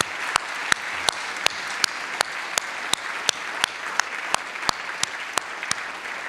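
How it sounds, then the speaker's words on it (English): Sustained audience applause at an arts and public policy lecture, a broad wash of many hands with one person's louder claps standing out in a steady, regular beat, no talking. "Can we give them another round of applause?"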